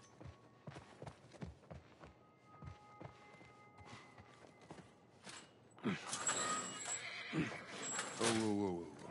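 A horse in The Last of Us Part 1 clip-clops along in an even walking rhythm, then gives a loud whinny over rising ambient noise near the end.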